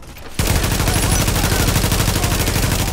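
Sustained automatic fire from a G36 Enhanced assault rifle in Tom Clancy's The Division on Xbox One starts abruptly after a brief quiet moment, then rattles on loud and fast for the rest of the clip.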